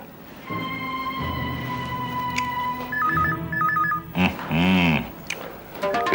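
An old landline telephone rings with repeated electronic trills over a soft music background, then a voice answers and speaks.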